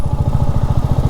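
A Royal Enfield Meteor 350 running on E20 petrol is ridden through city streets, its engine giving a steady, close, rapid low thumping beat with no voices over it.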